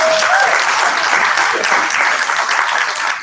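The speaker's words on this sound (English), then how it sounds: "Let's give Lance a round of applause." Sustained audience applause fills the room at a training event, a dense steady wash of clapping throughout with a brief whistle-like tone near the start.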